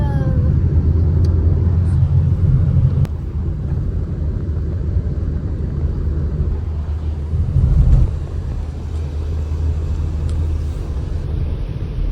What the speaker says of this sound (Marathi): बाय कार, आज बाईकने नाही.